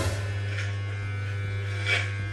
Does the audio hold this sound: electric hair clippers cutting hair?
yes